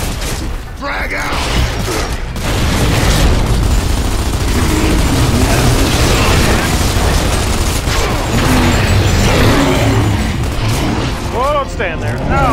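Grenade explosion and gunfire during a co-op campaign battle in Gears of War 2, a sustained loud barrage of blasts, mechanical clanks and shots with shouting voices over it.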